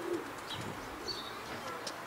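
Faint racing pigeon coos and a few soft chirps come through a quiet outdoor background, distant and low in level, with no talking.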